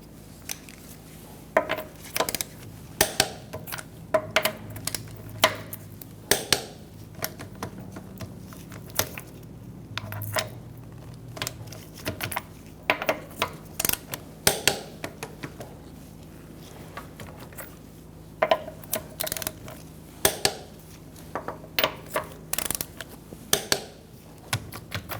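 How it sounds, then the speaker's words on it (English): Lug nuts on a 2014-2019 Kia Soul wheel being torqued to 80 foot-pounds with a 21 mm socket in a star pattern, giving a scattered series of sharp metallic clicks and clanks over a low steady hum. "We're going to torque our wheels to 80 foot-pounds using a 21 millimeter socket."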